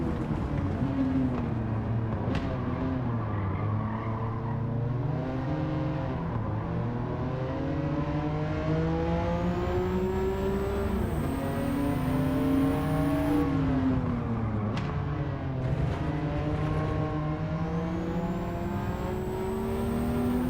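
Car engine in Gran Turismo 7 heard from the in-car view, revving steadily with rising and falling pitch through upshifts and throttle changes, loud and continuous throughout with no talk.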